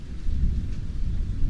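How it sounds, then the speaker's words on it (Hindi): Heavy thunderstorm with steady rain and strong wind, a continuous loud low rumble and dense hiss filling the whole short stretch with no voices. "बारिश के साथ तेज हवाएं चल रही थी और चारों ओर बिजली चमक रही थी।"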